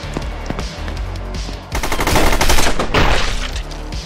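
Rapid gunfire from the video game Gunsaw, with loud repeated shots in quick bursts that grow denser and heavier midway, heard on its own without talk.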